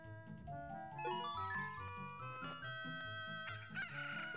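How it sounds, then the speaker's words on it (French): A chicken in the video game Zelda: Ocarina of Time clucks and crows in short bursts over a bouncy in-game music loop, both fairly quiet and with no talking. "Un petit poulet?"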